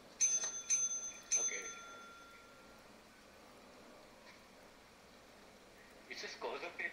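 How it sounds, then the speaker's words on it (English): Ship bell rung three times in quick succession in the Lethal Company video game, bright metallic dings with ringing decay, followed by quiet room tone and a brief cluster of clattering sounds near the end. "Wait, how do I ring the bell?"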